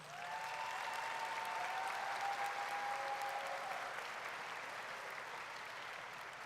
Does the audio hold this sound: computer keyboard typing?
no